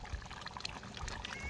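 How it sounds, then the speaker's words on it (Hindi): Water poured into a pan of browned chicken for orange chicken curry, a soft steady trickle and splash, fairly quiet, with no talking. "तो अब हम इसमें पानी डालेंगे।"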